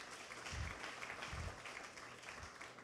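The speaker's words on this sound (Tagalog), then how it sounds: "Pumalakpak po sa Panginoon yung mga nakikinig dito" Church congregation applauding, a steady wash of many hands clapping at a moderate distance, fairly faint and continuous for a few seconds, with no talk.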